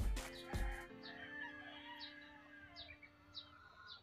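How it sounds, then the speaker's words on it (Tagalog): Chickens at a poultry farm, with several short rooster-like calls and clucks repeating at intervals over a low background hum, fairly faint and moderately distant; a louder bump or knock near the start. "So, ang daming manok."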